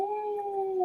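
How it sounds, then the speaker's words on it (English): A female puppy lets out a single sustained, steady howl while playing with her toys, held evenly for about a second, close and fairly loud with no talk over it. "that's my puppy. She howls while she plays with her toys."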